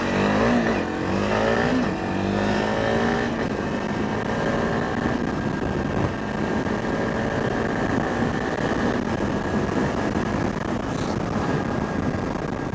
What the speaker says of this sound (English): I'll do a quick little acceleration.